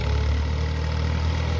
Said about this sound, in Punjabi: ਇਹ ਹੁਣ ਆ ਗਿਆ ਜੇ ਟਰੈਕਟਰ।